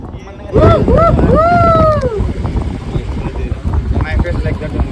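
Strong mountain wind buffets the microphone in a steady, roaring rumble during paragliding around Kullu and Manali. Voices talk loudly over it.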